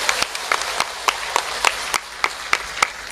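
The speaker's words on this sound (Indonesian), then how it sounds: "Tepuk tangan rumiyin." A small audience at a religious gathering claps in scattered, uneven, sparse hand claps for a few seconds, moderately close, with no talk.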